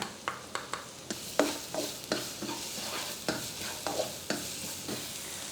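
Garlic sizzles steadily in vegetable oil in a pan while a utensil stirs and scrapes, giving a series of sharp clicks and taps over the constant hiss.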